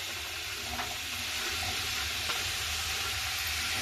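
Carrots and other vegetables dropped into a hot frying pan for chira pulao, giving a loud, dense, continuous sizzle and hiss, close up, with no talking.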